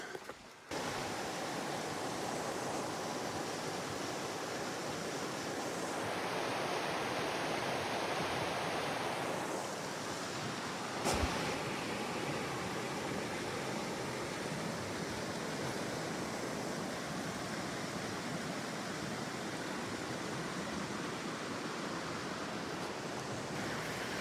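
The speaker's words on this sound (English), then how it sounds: "This is the east branch of that river." The east branch of a river flows as a steady, broadband rush of water, loud and constant throughout, with a single brief click partway through and no voices.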